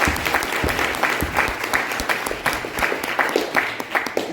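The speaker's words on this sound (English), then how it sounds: "Give him a round of applause." Audience applause for a church member fills the room, a dense, steady wash of many hands clapping at close range, holding even from start to finish.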